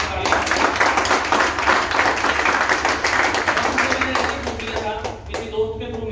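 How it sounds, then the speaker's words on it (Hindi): Audience at a seminar breaks into loud, sustained applause, a dense wash of many hands clapping together that fades slightly toward the end as a voice begins speaking. "सर के लिए एक बार जोरदार ताली।"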